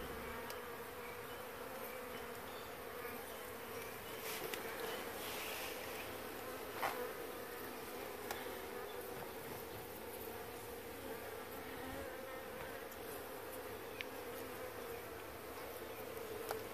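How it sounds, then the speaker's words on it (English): Honeybees swarming around a vacuum used to remove a hive from a mobile home in Florida, making a steady, faint, dense buzzing drone throughout with a few small clicks. "Look at all these bees on the vacuum catchment or the vacuum cleaner."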